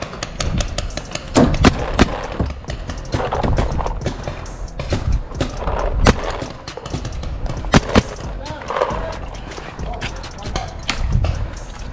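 Paintball guns firing outdoors in snow: scattered sharp pops and thuds in irregular bursts throughout, mixed with frequent shouting and talk from nearby players.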